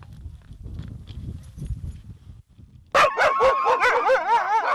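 Greenland sled dogs, kept by Inuit hunters, bark and howl together in a loud, close chorus after a quieter stretch of low rumbling and shuffling, with overlapping yelps and wavering howls.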